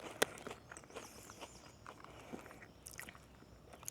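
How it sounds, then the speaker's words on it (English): Someone chews Lay's Wavy Magic Masala potato chips close to the microphone, with a sharp crunch at the start and then a run of soft, irregular crackles and bites in a quiet room. "sorry about this chewing."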